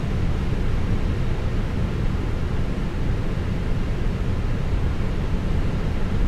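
A small plane's left-hand engine starts up in Microsoft Flight Simulator, a steady broadband engine roar with heavy low rumble holding at a constant loud level throughout, with no talking.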